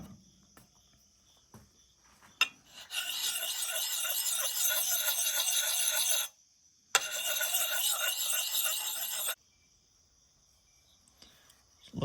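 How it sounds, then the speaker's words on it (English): A survival tool's rounded convex blade edge is sharpened with close, dry rasping, two sustained abrasive passes separated by a short pause, with quiet scraping before and after. "I'll sharpen equal amounts on both sides"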